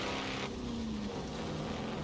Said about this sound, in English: This is my first time driving a tractor in Forza Horizon 4